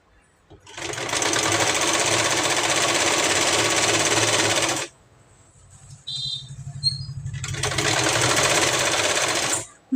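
A sewing machine back-stitches a blouse seam in two loud, steady runs of rapid whirring, separated by a brief pause with small clicks as the fabric is turned.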